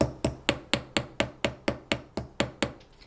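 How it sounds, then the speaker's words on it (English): A chasing hammer strikes a jewelry rivet in twelve sharp, evenly spaced metallic taps, close and clear, each decaying quickly, with no talking. "I'll go ahead and use the chasing hammer for the standard rivet just to show you how it works"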